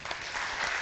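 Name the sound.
audience applause for conference speaker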